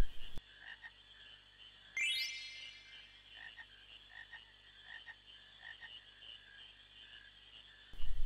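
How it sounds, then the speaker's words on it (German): Frogs croaking during a frog-catching minigame in the video game Final Fantasy IX, a steady chorus of repeated croaks over an ambient game background, with a brief sweeping chime partway through and no talk. "Das ist jetzt mein Frosch, Mampf."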